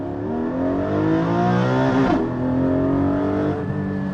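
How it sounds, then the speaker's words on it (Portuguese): Porsche 718 Cayman GT4 engine roars close and loud, climbing in pitch through the revs, dipping briefly at a gear change, then pulling hard again. "pra vocês ouvirem o ronco"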